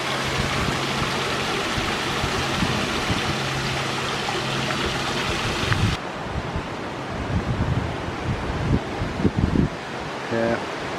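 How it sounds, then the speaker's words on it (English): Hurricane Francine's wind roars steadily outdoors in Algiers, Louisiana, a dense rushing wash buffeting the microphone, easing slightly partway through with gusty rustling and scattered knocks. "Boy, that wind is still whipping."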